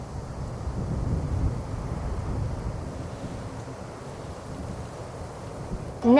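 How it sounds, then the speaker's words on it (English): Wind gusting past the microphone outdoors, a continuous low rushing roar that rises and falls in strength, ending in a sudden short burst. "Oh, it's windy."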